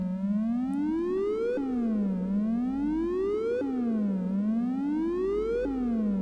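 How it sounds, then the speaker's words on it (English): A Behringer System 55 synthesizer oscillator playing a faulty triangle wave repeatedly sweeps up and down in pitch in a steady cycle, sounding buzzy and uneven rather than smooth, with no voices. "It's the sound of a broken triangle wave."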